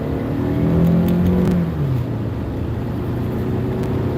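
A company car cruising along the road, steady engine hum with a low tonal drone that dips slightly midway, continuous and close, no talking.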